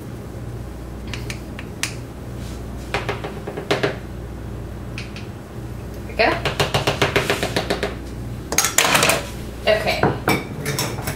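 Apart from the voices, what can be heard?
washing up dishes, pots and cutlery while cooking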